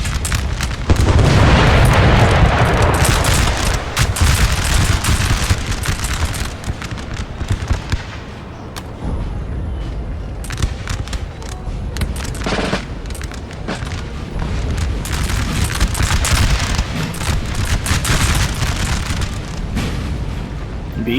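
Musket volleys in the Napoleonic battle game Napoleon Total War, with a continuous din of overlapping gunshots and booming explosions, loud and dense throughout with rolling swells of fire.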